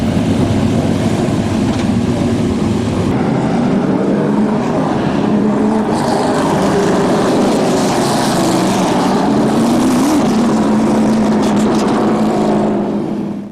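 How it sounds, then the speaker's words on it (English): Late-model race car engines roar continuously in the pit area at Midvale Speedway, a loud, sustained rumble with revving swells layered from several cars close by, and no talk over it. "As you can hear the sounds of roaring engines pit side."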